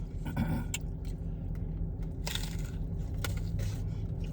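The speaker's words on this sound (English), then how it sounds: "now I'm going to take a bite of my Doritos taco, and I want y'all to hear this crunch" A bite into a Taco Bell Doritos taco shell gives a few crisp crunching snaps over steady close chewing noise, with no talking.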